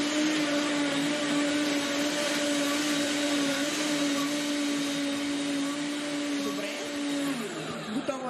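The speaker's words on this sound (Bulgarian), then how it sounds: "И пускаме блендера за секунда." A kitchen blender whirs steadily as it blends a smoothie with cocoa, a continuous close whine for several seconds that dips and shifts pitch near the end.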